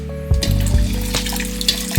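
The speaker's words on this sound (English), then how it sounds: "So I just pour in the coffee" Coffee poured into a konjac powder and sugar mix makes a loud, close splashing and gurgling pour that runs continuously for about two seconds, with no talk over it.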